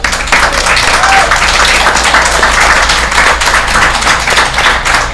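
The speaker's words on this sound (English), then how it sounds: "Let's give everyone a big round of applause," A group gives a loud, close round of clapping and applause for a youth softball academy, dense and continuous for several seconds with no speech over it.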